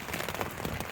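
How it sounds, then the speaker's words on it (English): Steady rain falls at night at a campsite on the Ireland Way, a dense even patter on a surface, close and continuous, with no voices. "I was sleeping a little bit with this wind and rain"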